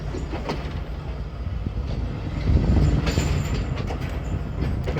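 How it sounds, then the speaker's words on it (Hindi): The 202 Down Attock Passenger train pulls out of Namal railway station in Pakistan with a heavy low rumble and clattering wheels. The sound is close and grows louder midway. "नमल रेलवे स्टेशन से हमारी 202 डाउन अटक पैसेंजर निकल रही है"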